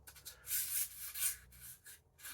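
A recurve knife blade is stroked against a sharpener in soft, rhythmic rasping scrapes, about five or six quick passes, close and quiet with no talk.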